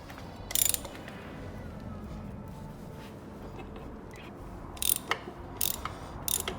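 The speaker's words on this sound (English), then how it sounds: "just a 17mm socket with a bit of an extension that side" A socket wrench with a 17mm socket on an extension undoes a motorcycle suspension bolt, giving short bursts of close ratchet clicking, one early and several near the end, over a low steady hum.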